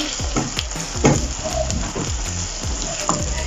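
Chopped onion with green, yellow and red bell peppers frying steadily in a pan for fried rice, a continuous sizzle broken by repeated scraping stirs, close and fairly loud, with no talking.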